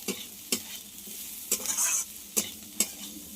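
Onion and potato frying in a pan, a soft steady sizzle broken by a few sharp stirring scrapes and one brief louder hiss, close by with no talking.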